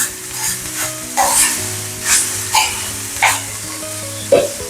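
Carrot, beetroot, onion, ginger and green chilli sauté in a pan, giving a close, steady sizzle broken by several loud, rhythmic stirring scrapes and clanks against the pan, with no voices.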